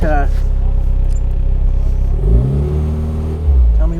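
A turbocharged, fuel-injected classic Mini Cooper engine drones steadily on a test drive, then swells into a loud rising rev as the car accelerates, with people talking over it inside the cabin.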